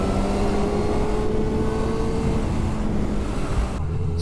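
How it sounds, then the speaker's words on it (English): A 2022 Honda CB1000R Black Edition roadster with a 1-litre engine runs steadily while riding, its smooth drone mixed with heavy wind rush, loud and continuous without talk. "Such a smooth engine, such a smooth ride."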